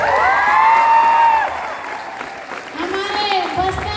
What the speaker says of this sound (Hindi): और हमारे बस्तर के युवाओं के लिए भी जोरदार तालियां।